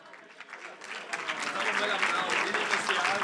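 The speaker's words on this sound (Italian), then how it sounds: "alziamoci, alziamoci e facciamo loro un bel applauso" An audience at a presentation evening breaks into applause that swells from scattered claps to full steady clapping, with voices mixed underneath.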